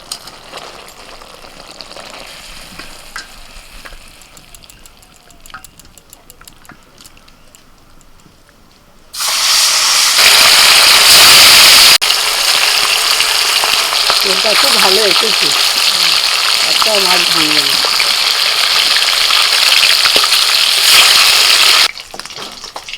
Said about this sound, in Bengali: মাছগুলো একটু লাল লাল করে ভেজে তুলে নিচ্ছি